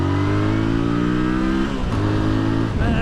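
A Voge DS625X motorcycle's parallel-twin engine drones loudly and close as it accelerates through the gears, its pitch rising, dropping briefly at a gear change, then climbing again.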